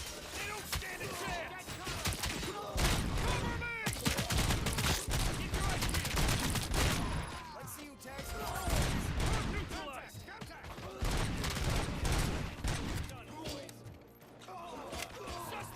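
Video game gunfire rattles in repeated bursts of rapid shots and heavy thumps, with clicks and mechanical clatter, rising and falling over a quarter minute while voices talk over the action.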